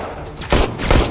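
A guard fires a gun in a film scene, a couple of sharp, loud bursts in quick succession.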